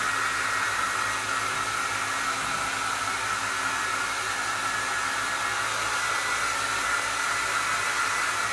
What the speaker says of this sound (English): Can I use the hairdryer?